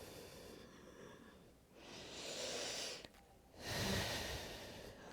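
Slow, deep breathing during a Kundalini yoga exercise, close and soft, with long airy inhales and exhales alternating in a steady, calm rhythm and no talking.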